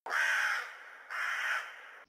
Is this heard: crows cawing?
yes